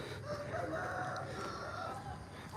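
A rooster crows outdoors in Kampot, Cambodia, a single drawn-out cock-a-doodle-doo rising and falling over a steady noisy street-like background, moderately near and clearly audible.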